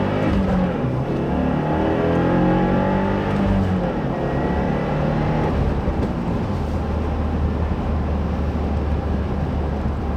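A 2015 Subaru WRX with a six-speed manual revving hard under acceleration as its turbo spools, a loud rising engine note heard from inside the moving car, alone without talk.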